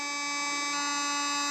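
A sonic electric toothbrush from a water flosser and toothbrush combo buzzes steadily up close, a constant high-pitched hum rich in overtones that holds level for the whole short stretch.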